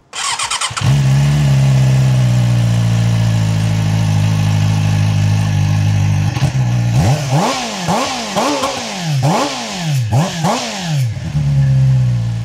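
A QJMotor SRK 400 RS four-cylinder motorcycle engine idles loudly up close, then revs in several sharp throttle blips before settling back to a steady idle.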